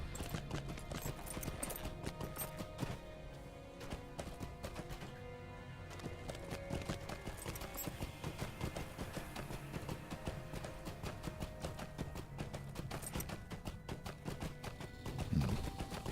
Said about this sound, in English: So let's jump on my trusty goat